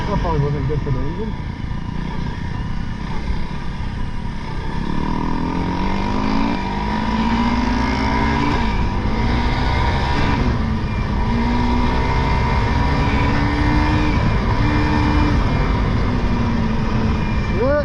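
A 2021 Honda CRF300L motorcycle engine runs while being ridden, its close, buzzing tone climbing and dipping in pitch through gear changes over steady wind noise.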